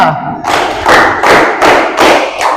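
A classroom of pupils claps hands together on cue from the teacher, a series of about five loud, sharp group claps in a steady rhythm, close and strong.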